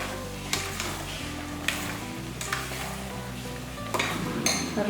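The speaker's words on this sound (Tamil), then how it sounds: "எல்லாத்தையும் ஒரு வாட்டி அப்படியே கலந்து ஊற்றிடலாம் இந்த நெய்யோடு சேர்ந்து ஒரு நிமிஷம் அப்படியே அடுப்பில் இருக்கட்டும்" Roasted raisins and nuts stirred into ghee in a pan on the stove, a steady sizzle with a few metallic clinks and scrapes of a spoon against the pan, close and continuous, no voices.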